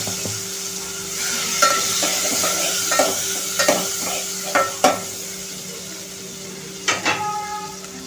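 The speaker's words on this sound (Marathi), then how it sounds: "आता आपण ह्याच्यामध्ये टोमॅटो टाकू।" Tomatoes dropped into a pan of browned garlic and frying, a steady soft sizzle broken by scattered clinks and stirring taps of a utensil against the pan, close up with no talking.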